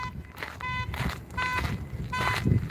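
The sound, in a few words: car alarm going off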